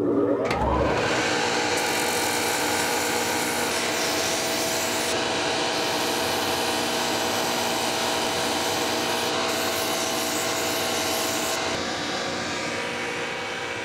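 Continuous loud whirring of a sanding belt with a crepe rubber cleaning block grinding roughly against it, steady throughout with a sharp bump at the start.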